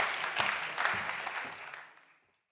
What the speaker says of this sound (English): everyone give a warm applause for Nicole Grobert